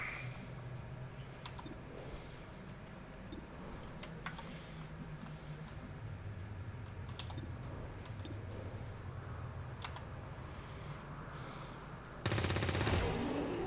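Gunfire from the tactical video game XCOM 2, a steady busy bed of game sound with scattered sharp shots and clicks throughout, ending in a sudden louder burst of noise near the end.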